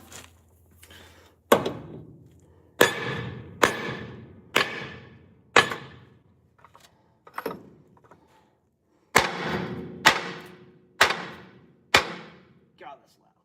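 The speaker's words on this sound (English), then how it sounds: "Hammer." A hammer pounds a control arm out of a car's steering spindle in a garage: about a dozen loud metallic blows in uneven bursts, each one sharp with a ringing tail, with short pauses between groups.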